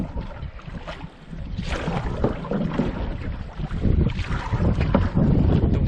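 A canoe paddled across a windy Ontario backcountry lake; water wash and gusty wind noise run steadily throughout, with soft irregular paddle strokes buried in the rush.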